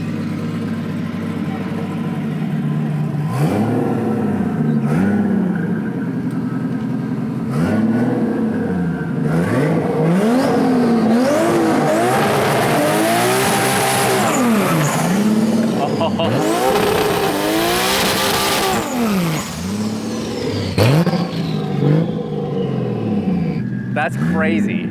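A 1.5JZ-powered Toyota Corolla drag car on slicks does a burnout in a burnout box. The engine revs hard and rises and falls repeatedly, and tires squeal loudly up close. People talk over the noise.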